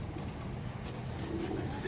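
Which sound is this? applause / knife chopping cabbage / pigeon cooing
pigeon cooing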